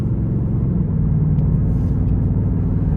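A 2026 Ford Mustang GT Premium pulls hard out of a corner, its V8 engine a steady, loud low rumble heard from inside the car, continuous throughout with no talking.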